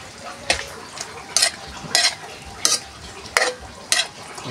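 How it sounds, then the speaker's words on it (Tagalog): Hotdogs fry in a pan and are stirred. Sharp utensil scrapes come at a regular beat, roughly every three quarters of a second, over a soft underlying sizzle. "Ganyan kami magluto ng hotdog."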